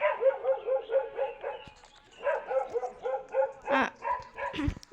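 Several dogs, including puppies, yap and bark nearby in quick rhythmic bursts of high-pitched yips, with a short pause midway and some whining toward the end.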